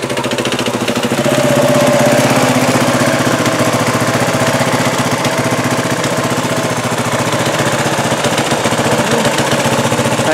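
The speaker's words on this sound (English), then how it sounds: "Show you the KLR in action." Kawasaki KLR motorcycle engine running loud and close in cold weather as the bike pulls up, a steady rough thumping drone that holds for the whole stretch with no talk over it.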